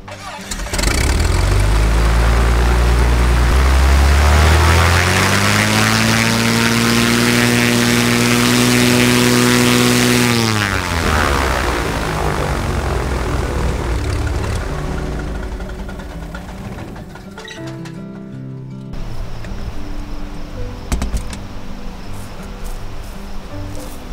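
A small propeller airplane engine runs loud and close on a remote backcountry airstrip, with a strong droning roar that rises in pitch, then drops away and settles to a lower, rougher idle.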